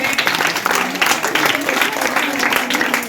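An audience claps steadily at a Telugu school event honouring students, the dense applause continuing evenly throughout with no pauses.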